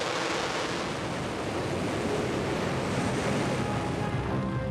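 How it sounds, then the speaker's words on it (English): A rocket booster ignition and liftoff, a continuous broad roaring rush that stays loud and steady throughout, with no voices. "We have booster ignition and liftoff."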